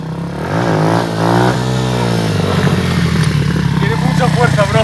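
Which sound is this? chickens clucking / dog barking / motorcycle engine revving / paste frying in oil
motorcycle engine revving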